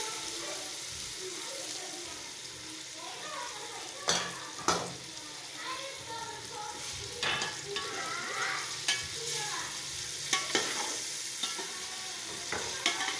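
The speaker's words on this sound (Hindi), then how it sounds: "अभी इसमें जो है ना थोड़ी सी हम यखनी डाल देते हैं ताकि जो यखनी बनाई हुई थी वो भी साथ साथ इस्तेमाल हो जाए।" Yakhni stock is poured into frying chicken pulao with a splash, then sizzling and stirring follow, with scattered spoon clinks and crackles over a steady frying hiss, close and moderately loud.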